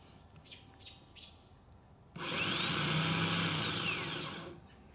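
A 12-volt starter motor spins up suddenly with a loud, high whirring whine, holds for about two seconds, then winds down, after faint bird chirps in the background.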